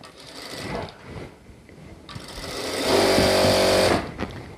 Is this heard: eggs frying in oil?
no